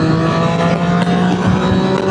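Triumph Street Triple 765RS pulling hard in top gear at about 60 on a dual carriageway, a loud sustained engine note with strong harmonics and wind noise throughout.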